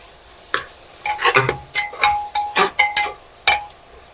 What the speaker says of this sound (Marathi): आपण ते चांगलं परतून घेऊ.